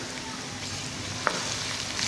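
Garlic ginger paste sizzles steadily in hot oil with golden fried onions for aloo gobi, a constant close frying hiss with one small spoon tap midway.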